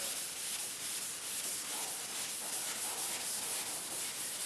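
Steady hand rubbing of wet sandpaper across a surface, a close, continuous soft scraping hiss with no pauses.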